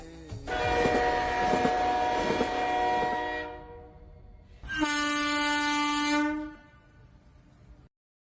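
A train passes, sounding its horn in two loud, sustained blasts, the first long and the second shorter and sharper, over a low rumble of the running train.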